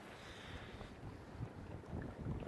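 Wind buffets a small, heavily loaded boat out on a lake near the shore, a faint, steady low rumble with gusty surges and no voices.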